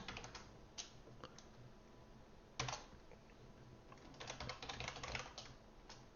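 Clattering keystrokes on an external computer keyboard, loud and close, tapping in uneven bursts with a heavy cluster near the end; no voices.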